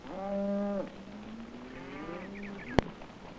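Cattle moo on a Utah family's ranch: one long, low, harmonic bellow, then a second drawn-out, wavering call rising in pitch, ending with a sharp click, all heard clearly with no talk.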